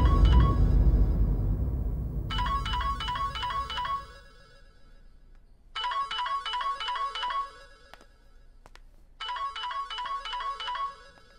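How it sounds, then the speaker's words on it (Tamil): A melodic phone ringtone plays in three repeated bursts separated by pauses, following a fading low rumble at the start, with no talking. "ஏன்டா ஃபோன் எடுக்க மாட்டேங்கிற?"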